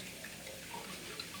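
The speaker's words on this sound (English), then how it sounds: "You put a little water in there." Water poured from a tap or jug into a cup holding asparagus in a home kitchen, a soft steady trickle heard up close and alone for a moment.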